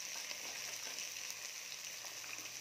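Carrots sizzle and fry in a pan with poppy seed paste while being stirred, a steady close hiss with faint scraping throughout.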